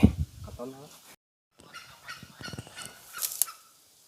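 A wild junglefowl hen near her nest gives harsh, honking calls, loud at first and then broken off, followed by scattered rustling and faint clucks in a quiet outdoor setting.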